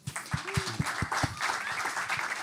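Scattered clapping from a conference audience thanking a panel at an energy and climate program information day, a short burst of individual claps, fairly quiet and uneven, with a faint voice mixed in.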